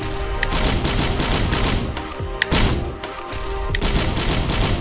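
Explosions proc on every ability while playing Commando solo in Risk of Rain 2, with extra enemies swarming. They come as a dense, continuous barrage of booming, crackling bursts, with a sharp blast near the middle and no voices.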